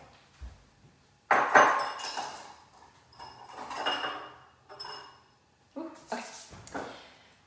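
Clear glass bowls being moved aside on a counter in a home kitchen, giving several loud clinks and scraping knocks of glass in separate bursts, close by with no talk.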